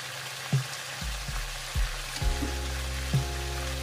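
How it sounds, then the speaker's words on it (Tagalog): Spicy squid adobo sautéing in a hot pan, a steady loud sizzle with a few sharp clinks of a utensil against the pan, no talk. "Igisa lang muna natin yan."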